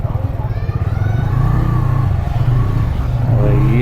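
A motorcycle engine revs and strains as the bike is ridden up, a loud, close mid-pitched drone that climbs in pitch toward the end.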